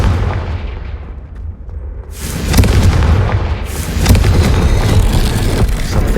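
Confringo spell explosion in Hogwarts Legacy, a sharp booming blast followed by another a moment later, each trailing into a rolling, crackling rumble.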